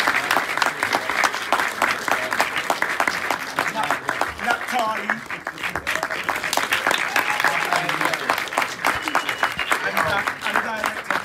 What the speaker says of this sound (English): can we have a round of applause for Black?